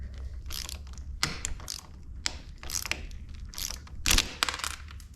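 A wrench ratchets in quick clicking bursts, loosening a bolt on a Suzuki LTZ400 clutch lever. The close, crisp pawl clicks come in short irregular runs with brief pauses between them.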